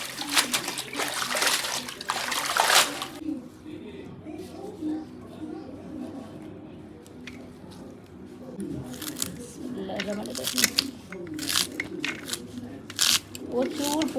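Water spinach (kalmi greens) rinsed by hand in water, bursts of splashing and rustling leaves at the start and again later, with quieter handling and a voice speaking between.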